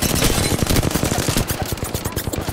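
Rapid automatic gunfire rattles in a battle royale video game, loud and continuous bursts of close shots layered densely for a couple of seconds without talk.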